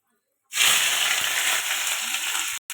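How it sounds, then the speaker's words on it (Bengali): Onions sizzle loudly in hot oil in a wok with dried chillies, bay leaf and five-spice, a sudden burst of bright frying hiss that holds steady for about two seconds before cutting off. "পেঁয়াজটা ভাজা হয়ে গেছে"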